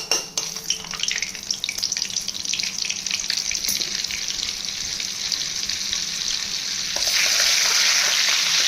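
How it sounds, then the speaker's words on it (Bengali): A spoonful of butter sizzling in hot refined oil in a kadai, a continuous close bubbling hiss with faint clinks early on, swelling louder and brighter near the end. "রিফাইন তেলটা গরম হয়ে গেছে, এর মধ্যে 1 চামচ বাটার দিয়ে দেবো।"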